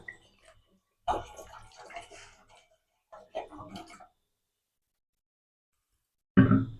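Water is poured into a pot on a gas stove in two short splashing bursts, close by and separated by silence, with a sharper knock at the end.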